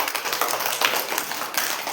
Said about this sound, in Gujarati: ચાલો તાળી પાડી દો બધાય.